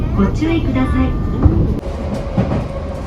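Inside a moving metro car in Chiba, Japan, a steady low rumble and rattle carries on while a person talks over it.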